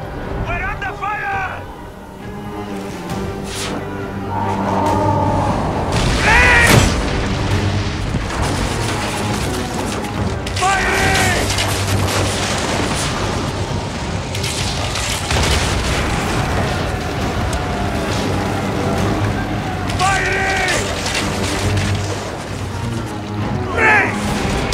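Ship cannon fire during a naval battle in Assassin's Creed Origins: repeated heavy booms and explosions over churning water and battle din, loud and near, with voices shouting orders throughout.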